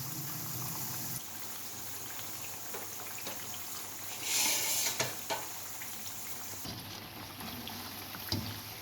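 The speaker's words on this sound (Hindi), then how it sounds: "2-3 मिनट इधर से भी हम इसको अच्छी तरह फ्राई करेंगे।" Potato pakoras fry in hot oil with a constant bubbling sizzle, broken by a few brief louder clatters and splashes nearby, no talk.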